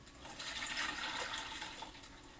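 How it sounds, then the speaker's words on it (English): Water poured from a pail into a fish net while moving fish from a home fish tank, a steady close splashing gush lasting a couple of seconds with no talk. "Take the pail, put the net, and put the water into the net."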